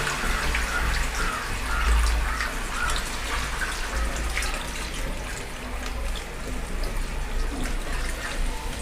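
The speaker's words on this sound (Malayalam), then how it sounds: "പിന്നെ ഇനി വേവാനുള്ള വെള്ളം ഞാൻ ഇതിലോട്ട് ഒഴിച്ചു കൊടുക്കാൻ കേട്ടോ" Water pours steadily into a clay cooking pot of tapioca and beef bones simmering for puttu, a continuous close rushing splash with a low rumble underneath, no talk.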